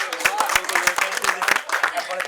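An audience at a quiz competition at Santiniketan Medical College and Hospital claps for a correct answer, sharp scattered handclaps in a steady run, with voices talking over them.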